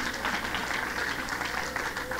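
A church congregation applauds during a sermon, a soft continuous patter of many hands clapping at a distance, steady through the moment with no clear talk on top.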